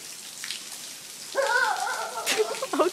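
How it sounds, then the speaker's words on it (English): Summer rain falling outside in Arizona, a soft steady patter and hiss with a brief tonal whine or voice-like sound partway through, fairly quiet and close. "Well, outside, raining."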